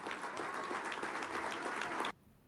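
Steady applause from a gathering, with many hands clapping continuously at moderate volume before cutting off abruptly near the end, leaving only faint room noise.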